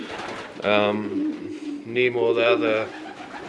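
Pigeons coo in a loft, heard mostly beneath someone talking up close; the soft, low calls surface between his phrases.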